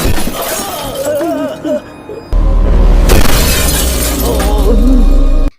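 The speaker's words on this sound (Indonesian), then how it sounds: "Lalu memukulnya dan menghancurkan mobil Ranju yang dibangga-banggakan itu." A prized car is smashed in an Indian film fight scene, with loud shattering glass and crashing impacts. Music and the noise of the scene carry on beneath the breaking for several seconds.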